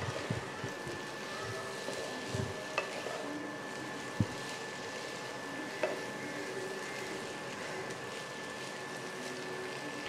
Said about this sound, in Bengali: এবার একটু নেড়ে চেড়ে নিয়ে আর একটু ভেজে নিয়ে এটা আমি নামিয়ে নেব।